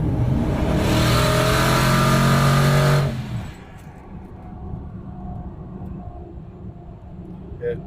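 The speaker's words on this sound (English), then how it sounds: "Those external wastegates opening is everything." A twin turbo truck with external wastegates and a 3-inch exhaust roars loudly and steadily for about three seconds, then cuts off sharply into a quieter rumbling idle.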